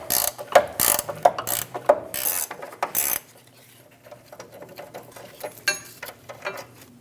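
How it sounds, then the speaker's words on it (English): A ratchet clicks in quick bursts while loosening the lower control arm nut on a 2001-2006 Chevrolet Silverado 2500 HD, close and sharp, then softer metallic handling and tool clinks follow. "Using an 18 and a 23mm, we're going to remove the nut off of the bolt for the lower control arm."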